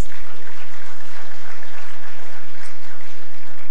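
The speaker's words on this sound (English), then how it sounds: "Please give yourselves a round of applause." Loud, steady applause from a large audience at the Bayelsa Medical University fourth matriculation ceremony, a dense wash of clapping that fills the whole stretch without pause.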